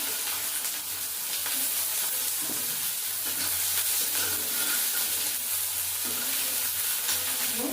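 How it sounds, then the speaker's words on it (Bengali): Cumin seeds spit and crackle in hot oil for a village-style potato curry, a continuous bright sizzle with occasional stirring, close and steady with no talking. "তো তেল দিয়ে দিলাম, একটু জিরে ফোড়ন দিয়ে দিচ্ছি,"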